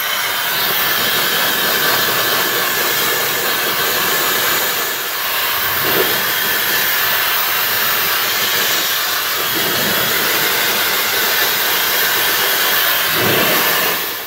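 Hair dryer blowing hair dry: a loud, continuous close-up whooshing hiss that holds steady throughout, with small shifts as the airflow moves, and no talking.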